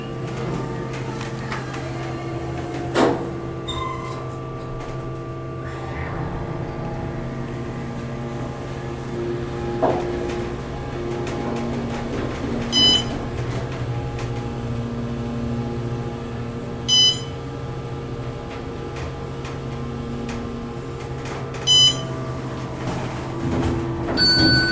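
An Otis Series 5 LVM hydraulic elevator at a Hampton Inn & Suites in Tampa hums steadily as it travels. Soft chimes and door clunks punctuate the quiet motor drone at intervals.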